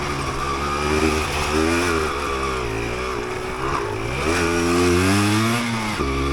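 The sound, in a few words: 1988 Yamaha DT200 dirt bike riding off road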